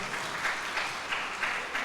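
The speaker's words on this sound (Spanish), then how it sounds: "gracias por el aplauso" A church congregation claps at a Sunday service for a couple's 21st wedding anniversary, producing soft, distant applause with a few louder bursts, muffled and low in level throughout.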